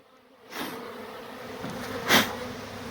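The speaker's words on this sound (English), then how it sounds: "we have the smoker going and we're now going to smoke bees" Honeybees buzzing around a tree beehive as a smoker works on it, a steady close droning hum that swells into a brief louder burst near the end.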